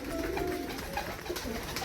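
Domestic pigeons kept indoors in a new room cooing softly, a few low murmuring coos layered over steady background noise, close by with no talk.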